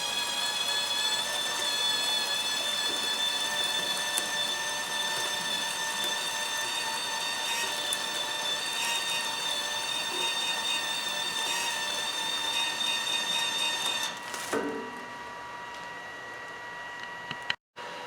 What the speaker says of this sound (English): we use the move switch and we move that card out the back of the laminator.